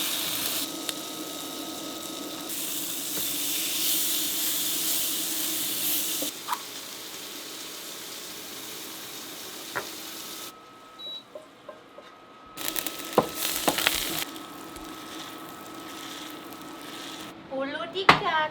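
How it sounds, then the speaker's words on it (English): Bolo de caco flatbread and steak cooking outdoors at a glamping site on Madeira, with steady sizzling and frying through most of the stretch, a few clinks and a pause, and people talking over it. "I'm making bolo de caco, and I am also making steak and salad."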